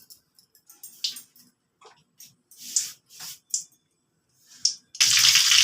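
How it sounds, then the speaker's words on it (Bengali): Dried red chilli dropped into hot oil in a kadai for chicken keema ghugni, giving short bright sizzling bursts that end in a loud, steady sizzle close by. "প্রথমে একটা শুকনো লঙ্কা ফোড়নে দিয়ে দিলাম"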